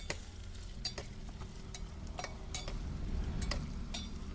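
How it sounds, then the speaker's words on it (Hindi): Steady sizzling of potatoes and onions frying in a pan, with occasional clinks of a spatula stirring, close and continuous. "आलू भी हमारे प्याज के साथ धीरे धीरे भूनते रहेंगे।"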